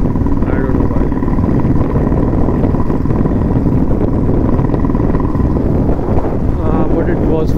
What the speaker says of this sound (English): many times when people hear the sound of a Gixxer, they get triggered